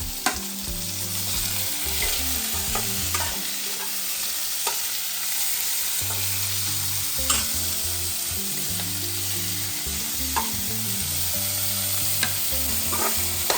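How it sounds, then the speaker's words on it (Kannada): Tomatoes frying and roasting in a pan for bottle gourd kofta gravy, a loud steady sizzle broken by repeated stirring scrapes, close and without speech. "ಆಮೇಲೆ ಟೊಮೆಟೊ ಹಾಕ್ತಾ ಇದ್ದೀನಿ, 1-2 ಟೊಮೆಟೊ ಹಾಕ್ಕೊಂಡಿದ್ದೀನಿ."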